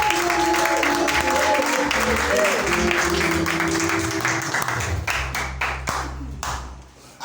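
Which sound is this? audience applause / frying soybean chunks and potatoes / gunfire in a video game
audience applause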